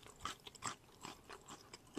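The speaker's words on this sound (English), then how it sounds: "Maybe you can hear the crunch." Crunchy water chestnuts from canned Chinese food are chewed close to the mic in soft, irregular crunches, a few bites per second and fairly quiet.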